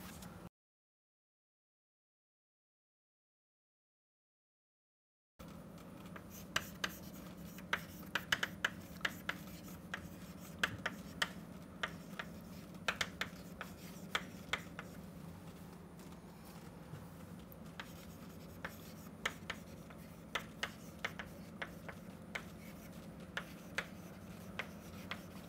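Marker or chalk writing on a board while an optics lesson on microscope field of view is being prepared, giving repeated short scratchy strokes and taps over a steady low room hum, after a brief silent gap at the start.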